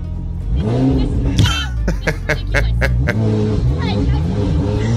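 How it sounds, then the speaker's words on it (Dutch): A loud car revving repeatedly in a residential neighborhood, the engine rising and falling in several surges, close and dominant, while people talk over it. "You cannot just be driving this loud car in this neighborhood at all hours."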